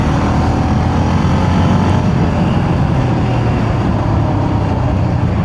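Jawa 42 motorcycle ridden off-road, a steady loud engine drone with a broad rumbling roar that holds constant throughout, no voices.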